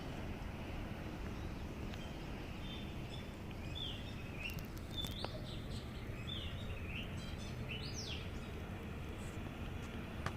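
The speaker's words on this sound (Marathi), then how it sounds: "कालचाच नवा पाहुणा पक्षी आलेला आहे" A small bird calls repeatedly in short chirps over a steady outdoor hiss near a blooming jasmine plant, the calls fairly faint and scattered through the stretch.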